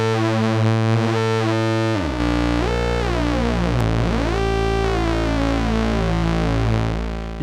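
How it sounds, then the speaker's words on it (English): Oscillator sync tones from a Roland JD-XA analog synthesizer: a sustained, bright, buzzy tone whose harmonics sweep and shift as the pitch changes, loud and continuous without any voice. "You can get those kind of quite nice sync tones"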